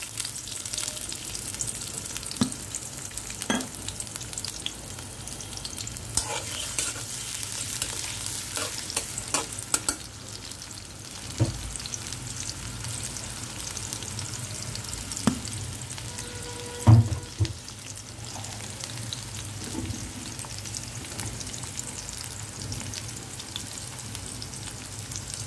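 Rohu fish curry with cauliflower, new beans and tomato cooking in a pan, a steady sizzle with occasional stirring scrapes and clinks over a low background hum.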